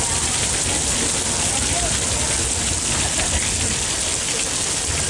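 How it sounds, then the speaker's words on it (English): Artificial rain sprayed on a Hollywood film studio set, a dense, even hiss of falling water pouring steadily and loudly with no letup. "Mưa như thật luôn"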